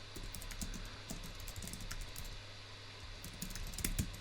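Rapid keyboard typing runs steadily throughout, a dense patter of close, crisp key clicks over a constant low electrical hum.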